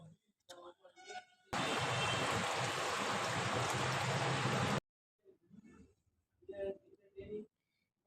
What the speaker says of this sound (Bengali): এবার আমি এখানে অল্প একটু জল দিয়ে দিলাম